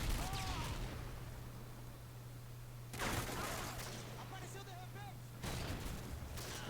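Faint, distant gunfire and explosions in Call of Duty Modern Warfare 2 on the Rundown map, with bursts around two points. Game ambience and sound effects run underneath.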